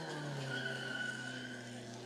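An MG Elfin race car launching off the line, a distant engine drone with a rising tonal whine and tyre noise over constant crowd and outdoor ambience, brief and fairly faint.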